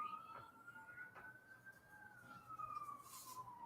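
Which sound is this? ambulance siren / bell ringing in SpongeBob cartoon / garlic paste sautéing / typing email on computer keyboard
ambulance siren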